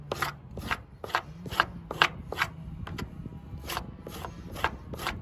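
Yucca fibers raked out of a spoon against the corner of a table, a run of about a dozen sharp scraping strokes in a loose, quick rhythm, close and clear with no talk.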